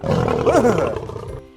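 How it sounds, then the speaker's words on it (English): A lion roars loudly and alone, one sustained, rumbling roar that holds for over a second before cutting off. "Pet lion"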